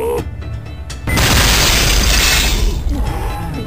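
A loud, close explosion blows up an enemy in the first-person shooter Shadow Warrior, a sudden heavy boom that swells into a long rumbling roar with debris and crackle, after a few sharp mechanical clicks and bursts.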